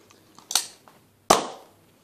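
A Nerf Jolt toy pistol fires a dart, two sharp close pops about three-quarters of a second apart with a fainter mechanical click between them, loud and alone with no talking.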